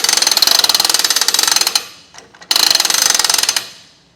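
A Jif 2-speed marine trailer winch ratchets loudly in quick, even clicks as its strap is loosened, with a short pause and a few softer clicks before a second run of rapid ratcheting that slows and fades.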